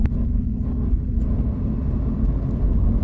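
A Lamborghini Huracán Tecnica with its V10 engine gives a deep, steady low rumble heard from inside the car, continuous and fairly loud with no talk over it.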